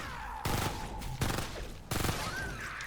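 DeathStalker assault rifle in Fortnite: Save the World firing three loud, close bursts of rapid automatic shots, each lasting about half a second to a second, separated by brief pauses.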